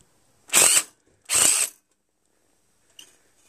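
Power driver or impact tool undoing torque-drive fasteners on a Craftsman 928 snow blower's carburetor intake manifold: two short, close, whirring bursts about a second apart, then a faint metallic click.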